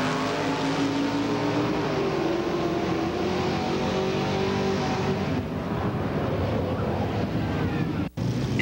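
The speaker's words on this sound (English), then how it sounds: "Ted Bond out of Innisfail, Alberta, and his beautiful 1936 Chevrolet" A 1936 Chevrolet drag racing car roars steadily at a quarter-mile strip, a loud, continuous engine drone with a shifting pitch and wind noise that cuts off sharply near the end.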